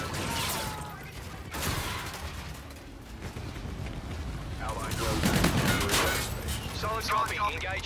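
Gunfire in a Call of Duty: Infinite Warfare hardcore team deathmatch on the Breakout map, with bursts of shots and booming blasts scattered through a dense battle din, mixed with in-game radio voices.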